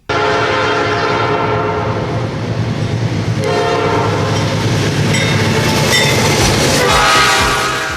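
A train passes close by near a marching band's rehearsal space, its horn sounding amid steady loud rumble and rail clatter that swells toward the end; no voices.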